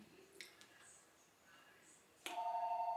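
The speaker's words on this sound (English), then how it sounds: "There's a phone ringing. I gotta answer it." A telephone starts ringing near the end, a steady electronic warble that follows faint scattered clicks and sounds from a seafood boil meal.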